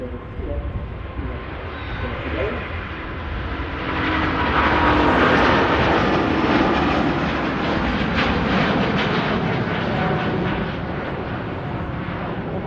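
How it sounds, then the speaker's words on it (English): An Airbus A350-900 takes off from a Manchester Airport runway, its engines a broad, loud roar that swells after a few seconds and stays strong, heard from nearby and alone. "Off it goes to Hong Kong. A350-900."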